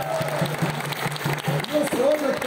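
Applause from the crowd at a capoeira batizado and graduation ceremony runs steadily under a voice talking into a microphone, with brief tonal vocal sounds over the clapping.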